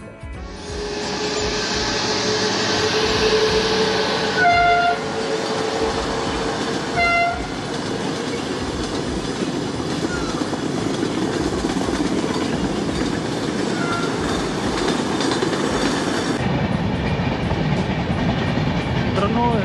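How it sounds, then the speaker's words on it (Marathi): The Chandigarh–Kochuveli Express departing Kudal railway station in Sindhudurg during the monsoon, a loud steady rumble of rolling cars with clickety-clack and a few horn toots early on, the roar dropping sharply near the end. "ही चंदीगड कोचुवली एक्सप्रेस आता रवाना झाली"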